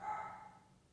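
A single short dog bark indoors in a home bedroom, faint and a little distant, heard alone without talk.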